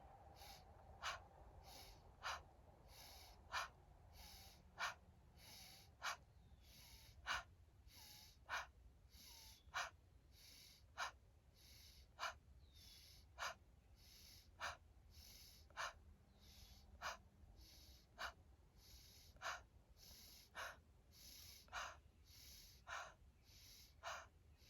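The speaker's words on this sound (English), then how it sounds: "30 to 60 breaths of fire." Breath of fire yoga breathing: rapid, evenly spaced forceful exhalations through the nose, about one per second, repeated steadily and close by over a faint background, with no talking.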